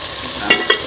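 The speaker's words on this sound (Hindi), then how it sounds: "मैं अच्छी तरह से टिंडों को चिकन और मसाले के साथ भूनूंगी" Round gourds (tinda) frying with chicken and spices in a pan, a soft continuous sizzle broken by two quick scraping stirs, close and alone without speech.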